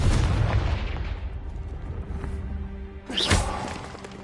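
A Confringo spell explosion in Hogwarts Legacy: a heavy booming blast that fades into a rumbling tail, then a sharp whooshing burst near the end. No talk is heard.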